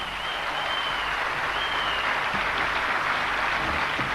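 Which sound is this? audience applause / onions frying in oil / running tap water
audience applause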